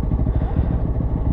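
A GPX motorcycle is ridden on a road tour from Dhaka to Cox's Bazar, its engine a loud, close, low rumble with a rapid throbbing pulse that holds steady the whole time.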